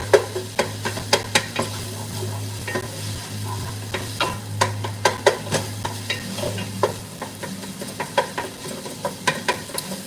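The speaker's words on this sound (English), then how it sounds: "These sausages are almost done." Sausages fry in a pan for a homemade biscuits and sausage gravy breakfast, giving a steady hissing sizzle broken by repeated sharp clicks and scrapes of stirring, close and moderately loud with no talk.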